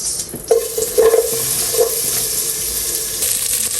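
Garlic and onion sautéing in a little hot oil in a pan, with a steady hiss of sizzling and a few brief clinks and stirring scrapes near the start, heard up close with no talking.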